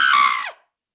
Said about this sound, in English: Suddenly, a woman screams.